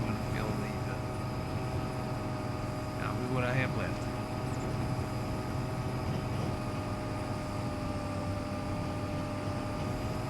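An airplane flying overhead in Farming Simulator 25 drones steadily with engine tones under ambient farm noise, while a voice talks over it.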